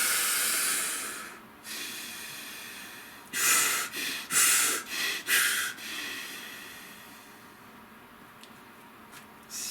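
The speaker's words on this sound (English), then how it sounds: "A nice fire breath." Forceful fire breath breathing exercise: a long hissing breath, then a quick series of five or six sharp, rhythmic nasal snorts close to the mic, followed by quieter breathing.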